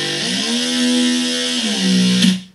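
A layered bass patch from the NI Massive synthesizer, a loud, buzzy, distorted held tone that sustains, dips, then rises again before cutting off, heard alone with no processing.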